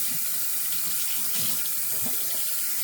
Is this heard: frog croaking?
no